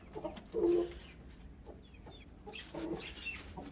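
Hen clucking close by in a pen, a few short, loud clucks in two bursts separated by a quieter gap, with soft bird chirps in between.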